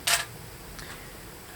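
A Canon M6 Mark II with its kit lens fires its shutter after a ten-second self-timer, giving one crisp, close mechanical snap, then a fainter second click and quiet.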